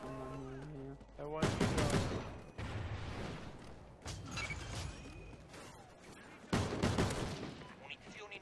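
Gunfire in a first-person shooter with a single-shot marksman rifle, the MK14: bursts of loud rapid shots and sustained volleys with short gaps, a musical tone underneath at the start, a voice faintly present.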